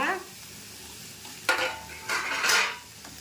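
Onion and tomato sauté in a pan for chutney, a quiet sizzle broken by a few sharp spoon scrapes and stirring clatters against the pan, heard close with no talking.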